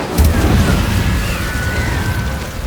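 A fire spell cast during combat in the video game Hogwarts Legacy, a loud burst at the start followed by a rumbling, crackling blast and swooshing magical effects that linger for a couple of seconds.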